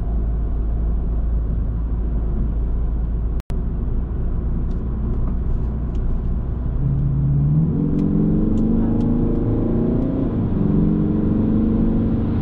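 A Peugeot 308 SW GT estate accelerating, its engine note climbing steadily in pitch over a continuous loud road and cabin rumble, heard from inside the car with no talking.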